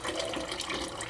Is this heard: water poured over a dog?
yes